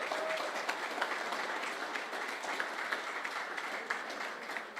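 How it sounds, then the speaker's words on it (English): Steady applause from a gathered crowd at a golf tournament prize ceremony at Qutab Golf Club in Delhi, a dense wash of clapping held at even volume throughout, heard from a little distance and fairly faint. "I think the applause says it all"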